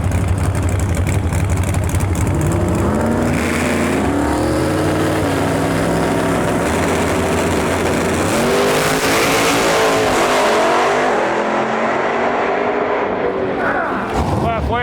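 A Chevrolet Camaro drag races down the track, its engine roaring loudly and climbing in pitch through several gear changes, with more engine noise and a commentator talking over it.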